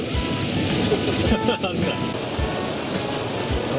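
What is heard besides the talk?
heavy downpour of rain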